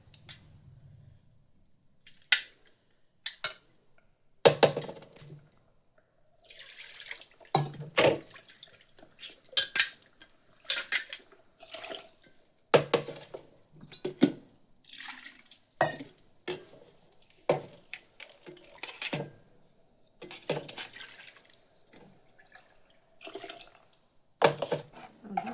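A vessel is scrubbed and rinsed at a kitchen sink: irregular scraping strokes, metallic clinks and splashes of water come in separate bursts with quiet gaps between them, and no one speaks.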